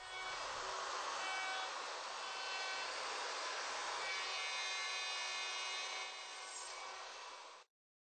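Router with a dovetail bit cutting through-dovetail tails in wood on a Leigh D4R Pro jig, a loud, steady high-pitched whine and rasp that stops abruptly after about seven seconds.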